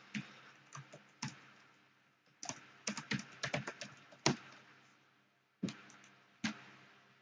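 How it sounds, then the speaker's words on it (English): Quiet, close keystrokes on a computer keyboard as a full name is typed, coming in irregular bursts of clicks separated by short pauses. "type in your full name into the box, label text, and click sign"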